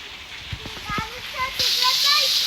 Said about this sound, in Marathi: भरपूर मोठा पाऊस आला रे